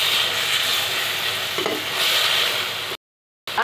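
Grated tomatoes frying with spices in a pan for macaroni, a steady close sizzle with a brief stirring scrape, cutting off abruptly before a short burst returns at the end.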